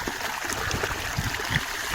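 Water pours steadily into a well from a pipe, a continuous trickling and gurgling stream with small splashy spikes, moderately near and fairly quiet, no voices.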